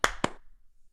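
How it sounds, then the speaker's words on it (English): Two sharp hand claps, close and crisp, land about a fifth of a second apart, followed by near silence. "Claps."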